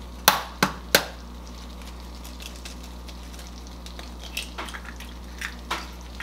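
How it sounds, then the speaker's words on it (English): Three sharp cracks as an egg is knocked against a rim and broken over macaroni, followed by faint soft drips and light clinks in a quiet kitchen. "So I'll put one more egg in here."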